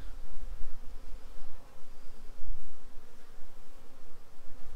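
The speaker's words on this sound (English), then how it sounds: "apiary is pretty active, and let's just take a look at what's going on over here" Honey bees swarming around a hive in an active apiary, a continuous close buzz that swells and fades as insects fly past.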